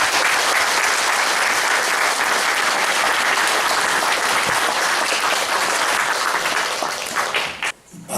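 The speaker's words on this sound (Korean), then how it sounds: "모두 큰 박수로 맞이해 주십시오." Sustained applause from a large audience at a Korean book launch lecture, steady and loud for several seconds before cutting off abruptly near the end.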